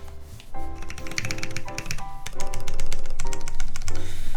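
Keypresses on an 84-key mechanical keyboard prototype, modifier keys included, clatter in quick irregular bursts of sharp clicks and clacks, close and loud, growing denser toward the end.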